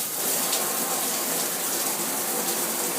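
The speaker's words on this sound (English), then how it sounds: "I have good water pressure in my normal shower head." A standard shower head sprays water at good pressure, a loud, close, hissing rush that stays even and unbroken for the whole stretch.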